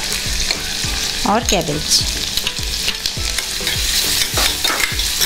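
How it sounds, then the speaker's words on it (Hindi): Finely chopped carrot, capsicum and cabbage stir-fried in a pan for a semolina breakfast, with steady sizzling and repeated spatula scrapes and taps; someone speaks briefly. "और अब इसके बाद वेजिटेबल्स डाल रही हूँ, तो ये कैरेट है सब बारीक कटी हुई है मेरे पास, शिमला मिर्च"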